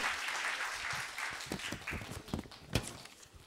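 Applause from a church congregation at a Friday evangelism school service, a dense clatter of clapping that thins toward the end with a few sharper claps standing out.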